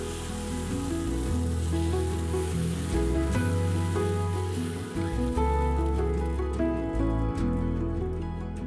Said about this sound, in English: Place the pan back on medium-low heat with a thin layer of oil. Add in about half a cup of that lentil spinach mixture and immediately spread.